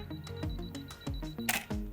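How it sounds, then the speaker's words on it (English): A Canon EOS 5D Mark IV DSLR fires its shutter repeatedly, a rapid series of close, crisp mechanical clicks in an even rhythm. "you simply just hold the shutter button to take the first photograph"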